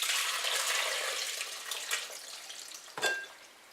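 Elderberry syrup pours into a large measuring cup with a steady, close liquid splashing and trickling that gradually thins, ending in a brief final splash.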